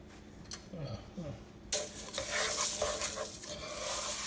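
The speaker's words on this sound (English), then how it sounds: "And then just keep stirring till all of the cereal is well coated." A spoon stirs cereal into a melted chocolate mixture for homemade vegan Butterfinger candy. Soft scraping comes first, then a dense, continuous crunchy rustle and clatter close by.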